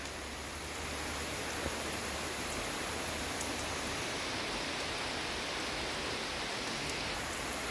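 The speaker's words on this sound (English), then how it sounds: "It's raining. Raining and pouring." Heavy rain pours steadily outside a horse barn, a dense, even hiss that fills the whole stretch with no voices.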